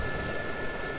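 A helicopter's rotor and engine in the DCS World flight simulator, a dense continuous drone with a thin steady whine above it, loud and close with no voices.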